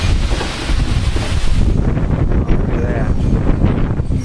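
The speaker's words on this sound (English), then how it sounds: "it's very windy out" Strong gusting wind from approaching Hurricane Irene roars loudly across the microphone in a rough, continuous rush, close and buffeting, with a voice faintly present beneath it.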